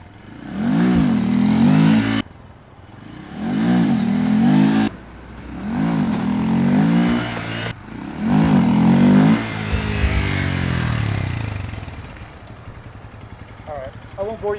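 A 2022 Honda Grom's engine revs in four rising bursts during clutch practice, each climb followed by a short drop, then settles into a lower steady run as faint talk comes in near the end.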